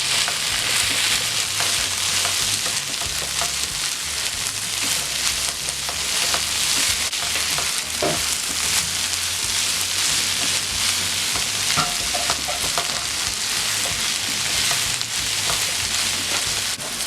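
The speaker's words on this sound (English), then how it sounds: "Sauté for 2 to 3 minutes." Chicken fajita filling with chili flakes and oregano sautéing in a pan, a continuous close sizzle with frequent stirring scrapes and clicks throughout, no talking.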